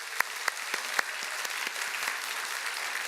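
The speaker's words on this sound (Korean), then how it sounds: "두 분이 여러분 인사를 할 때 이 두 분을 위해서 여러분이 격려하는 큰 박수로 좀 해주시기 바랍니다." A church congregation at a Sunday service clapping together in encouragement, a thick even patter of many hands with a few louder individual claps standing out early, steady throughout at moderate volume.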